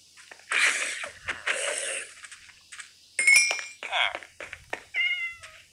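Cat meows from the video game Minecraft, several short in-game mewing calls scattered among chimes and clicks, with a person talking over much of it.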